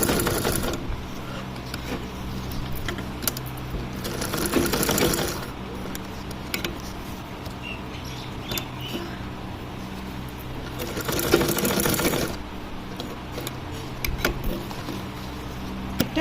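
A domestic sewing machine double-stitches a seam on a pair of half-length shorts, running in a fast, rattling mechanical whir with short bursts, pauses and restarts, close and steady, with no one speaking.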